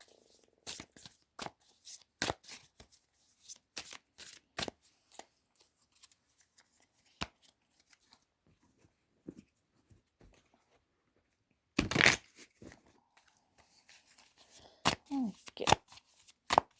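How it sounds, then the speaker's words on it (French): Playing cards for a tarot-style reading are shuffled and handled in scattered dry, crisp flicks and riffles, with a denser burst late on, while a voice speaks at times. "On va aller se chercher 3 cartes."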